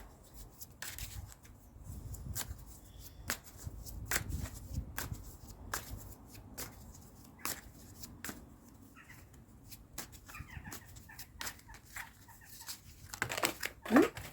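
A tarot deck shuffled by hand, repeated quick riffling card slaps in an irregular rhythm, close and fairly quiet, with a sharper burst of card noise near the end.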